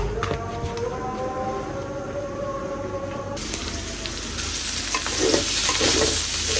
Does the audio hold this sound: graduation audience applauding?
no